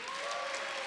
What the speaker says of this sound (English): round of applause for Pasadena